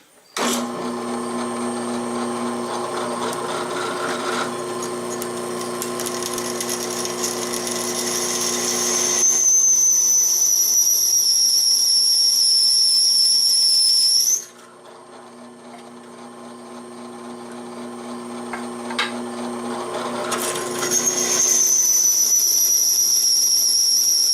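A Sears Suburban 48 inch mower deck spinning Bosch M42 blades: a loud, steady high-pitched whine with broadband roar, cutting off briefly midway and then running up again, with no talk.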